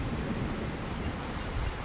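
Steady rain hisses in the video game Dust: An Elysian Tail, an even, close wash of downpour with no voices.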